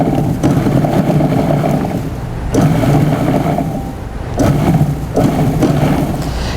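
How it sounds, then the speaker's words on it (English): Food processor pulsing cold butter into flour for buttermilk biscuits, a loud rumbling churn that runs steadily, with brief cut-offs and restarts between pulses, close up. "I like to use the pulse mode. And what I'm looking for, as you can see, this is very rumbly, in the food processor."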